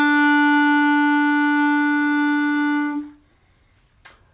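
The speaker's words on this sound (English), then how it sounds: "and then blow lots of air out through the clarinet." A single sustained clarinet note blown with a full breath, steady and strong with rich overtones for about three seconds, then stopping abruptly, followed by a short faint click.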